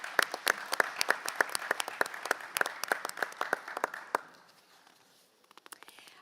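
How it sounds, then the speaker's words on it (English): A crowd claps in brisk, scattered applause for about four seconds at a parliamentary conference closing session, then it dies away to near silence with a few faint sounds. "Let's give them a round of applause."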